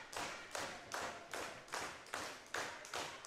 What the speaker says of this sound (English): Fans trying to cheer along Boone here for another strikeout.